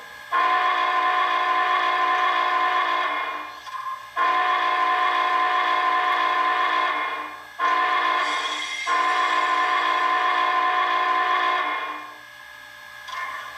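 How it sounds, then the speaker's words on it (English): A steady, multi-tone whistle from an MTH HO-scale Union Pacific Big Boy 4-8-8-4 #4014 model steam locomotive blows in three long blasts with brief gaps between them, clear and loud. "I'm going to go ahead and show you the bell and the whistle."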